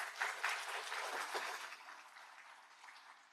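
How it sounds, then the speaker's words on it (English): Applause for sponsors at a plenary session, a quiet, fairly distant audience clapping that is strongest at the start and gradually fades away. "Let's give them a round of applause as well."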